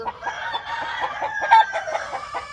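A Claret gamefowl hen clucks close by just after laying an egg. Her repeated, rhythmic, fairly loud clucks run steadily through the clip, with no talking.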